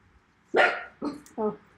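Dogs bark indoors, three short barks close by with brief pauses between them and no talking over them.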